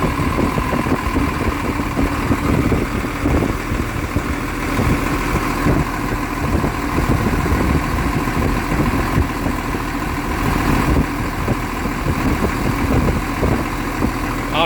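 A diesel excavator engine idles after a service on a machine with an injector failure and diesel mixing into the engine oil, giving a steady, continuous rumble at even loudness throughout.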